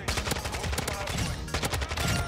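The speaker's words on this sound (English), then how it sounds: "Oh, that's a grenade! And a sniper!" Gunfire and explosive bursts in Call of Duty: Modern Warfare II multiplayer, with a grenade blast and sniper shots among dense, rapid, loud gunshots throughout, steady and close with no speech over it.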